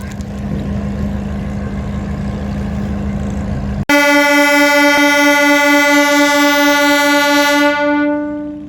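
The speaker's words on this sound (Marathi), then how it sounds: "मग ट्रेन स्टार्ट होती मित्रांनो." A train engine idles loudly at Beed railway station on the Beed to Ahilyanagar line, then a long, piercing horn blast sounds close by and holds steady for several seconds before fading out.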